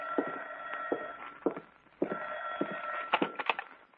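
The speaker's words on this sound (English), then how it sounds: "it was about 11 o'clock when the phone rang" An old-fashioned telephone bell rings in a radio drama, two clear rings with a pause between them, loud and close, with no voices over it.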